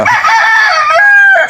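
Backyard chickens crow loudly and continuously at close range, a rooster-like call with sustained rising and falling tones and no other sounds over it.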